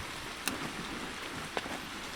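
Steady rain falls on a rural outdoor spot, a continuous broadband hiss with two brief sharper drop impacts, no voices.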